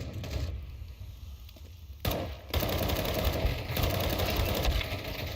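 AK rifle fire in Counter-Strike 2 crackles in rapid automatic bursts, loud and close, with a short gap before the shooting resumes and keeps rattling on.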